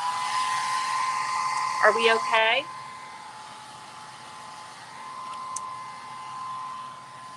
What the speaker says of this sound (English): let's hit it with the dryer because we have a lot of layers on this